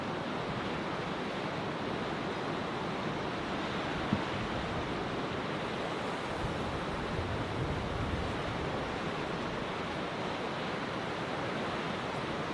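Ocean waves breaking on the shore at Crookhaven Heads, a continuous broad roar of surf with wind, steady and fairly loud with no voices.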